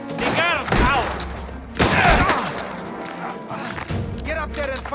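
Gunfire in the video game Mafia: The Old Country, bursts of shots and crashes mixed with shouted in-game dialogue, loud and close throughout the firefight.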